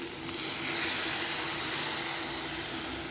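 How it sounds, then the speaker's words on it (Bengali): Water poured into a pan of simmering potatoes and pointed gourd for a vegetarian aloo potol dish, giving a steady broad hiss and sizzle of steam that holds even and fairly loud throughout. "তাই আমি এক কাপ মতন জল দিয়ে দিচ্ছি"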